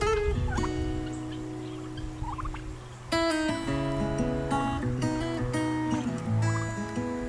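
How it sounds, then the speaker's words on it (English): Several turkeys gobble in repeated bursts in an outdoor setting near a top bar beehive, the calls loud and close with short pauses between and no talk over them. "Nosy turkeys."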